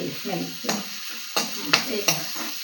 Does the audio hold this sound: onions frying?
yes